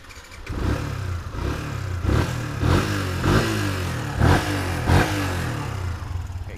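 Used Yamaha motorcycle priced under 10 million rupiah, its engine idling with a steady low rumble punctuated by about six sharp throttle revs at roughly regular intervals, close by with no talking.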